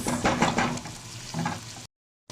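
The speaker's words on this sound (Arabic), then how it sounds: "ونسيبهم بقى ايه يتشوحوا برده مع بعض شويه، بس تشويحه كده مع بعضهم بقى" Vegetables for lentil soup sizzle and fry in a pan, a steady crackling hiss with some stirring and pan clatter, close and fairly loud, cutting off abruptly near the end.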